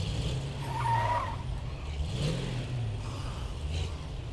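In State of Decay 2, a car engine revs while its tyres skid and squeal, making a continuous rough drone with swelling screeches. It stays moderately loud throughout and nobody talks over it.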